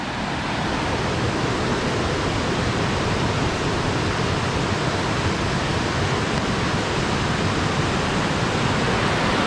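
A waterfall plunges from a cliff top in Kagoshima, Japan, giving a steady, loud, broadband roar of falling water that stays constant throughout, with no voices.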